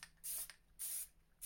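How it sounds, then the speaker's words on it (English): Two long hissing bursts of Plasti Dip from an aerosol spray can, coating a BMW E90 front kidney grille, with a third burst starting at the end; close and fairly loud, with no talk. "That's exactly how you want to spray it."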